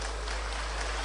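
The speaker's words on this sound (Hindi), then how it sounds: "जोर से ताली बजाओ।" A rally crowd applauds, a dense, steady wash of clapping filling the whole short moment at an even loudness.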